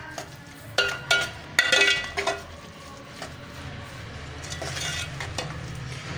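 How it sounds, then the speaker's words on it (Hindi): Jumbo chilli filling mixed with a little water in a pan on the stove, a few close utensil scrapes and clinks early on, then a soft steady simmering hiss with no talk. "टू टेबल स्पून वाटर डालने के बाद अच्छा सा मिक्स कर लेते हैं इसको"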